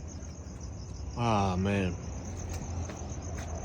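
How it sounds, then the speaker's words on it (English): Crickets chirp in a steady, high, continuous trill near a junkyard, carrying on unbroken from start to end while someone briefly speaks over it. "Y'all hear these crickets?"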